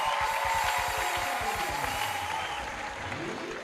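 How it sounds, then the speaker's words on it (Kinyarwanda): Crowd applause at a Rwandan Foursquare church youth event, a dense steady wash of clapping at moderate volume, with a voice speaking over it and the clapping thinning slightly toward the end. "Mukomere Anne Marie amashyi menshi cyane."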